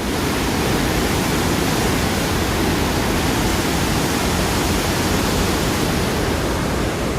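Water pours through a single open dam shutter at Bhoothathankettu near Kothamangalam, a loud, unbroken rushing roar that holds steady throughout with no voices.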